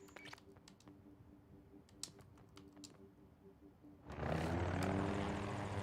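A helicopter in the Battlefield 2042 shooter: keyboard clicks tap away at first, then a loud, dense rotor and engine roar swells up and holds steady for the final seconds.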